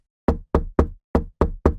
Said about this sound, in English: A knock at the door made her jump.